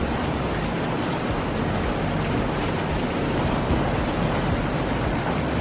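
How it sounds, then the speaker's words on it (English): Steady, dense rain hiss fills the whole stretch, a continuous broadband wash with occasional brief drips or taps standing out, no voices. "It's been raining a lot"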